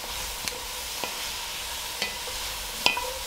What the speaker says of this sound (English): we're gonna saute that garlic just for a second